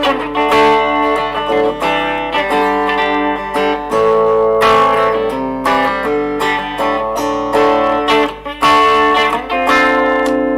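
A Gibson SG Standard electric guitar plays distorted chords drenched in heavy reverb, ringing and washing together in a loud, sustained sound with strummed attacks.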